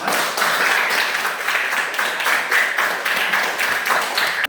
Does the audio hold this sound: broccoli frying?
no